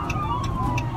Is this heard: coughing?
no